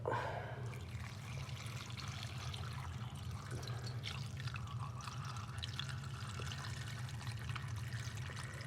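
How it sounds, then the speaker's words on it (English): Water pours steadily into a pot, a continuous close splashing rush with a low hum underneath. "I'm just going to cover that with water."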